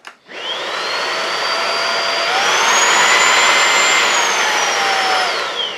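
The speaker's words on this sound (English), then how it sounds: "They're giving you some sense of the 2 different suction modes on the standard and max suction." A eufy HomeVac S11 Lite handheld vacuum cleaner starts up with a loud, steady whine and suction roar. Its pitch steps up as it switches to max suction, holds, then drops back to standard just before the end.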